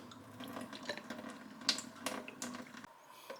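Cold water runs into a home brewing vessel with a faint, uneven trickle and scattered drips and splashes, quiet and close, ending in a sudden drop as the flow stops.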